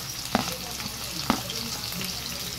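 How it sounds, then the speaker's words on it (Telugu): Chopped large onions sizzle in hot oil for prawn curry, a soft steady frying hiss broken by two sharp clinks of a spoon against the pan, no talking. "ఇప్పుడు నేను కట్ చేసి పెట్టుకున్న ఉల్లిపాయలు వేసుకుంటున్నాను."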